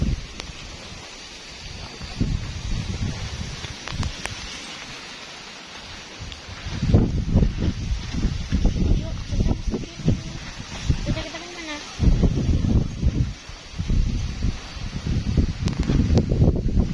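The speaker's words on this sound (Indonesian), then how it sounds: "ini anginnya benar-benar kencang banget" Strong storm wind buffets a mountain campsite, roaring in loud gusts against the microphone and flapping gear, rising and falling over a quieter lull, with people talking at times.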